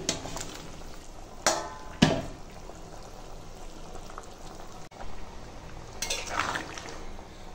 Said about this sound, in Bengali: দেখো তরকারি এখন ফুটছে